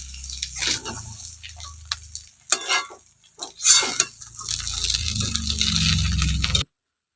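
A spoon stirs three spoonfuls of sugar into a pot of potol pulao, scraping and clinking against the dish in uneven bursts, up close, with short pauses between strokes.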